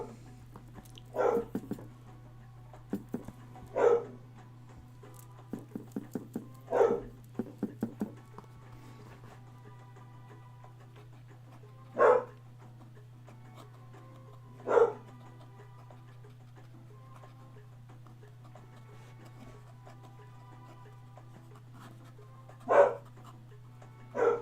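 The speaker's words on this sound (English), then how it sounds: "What is she barking at now?" A dog barks in short single bursts, about eight barks spaced irregularly across a quiet room, heard at moderate distance over a steady low electrical hum, with no talking.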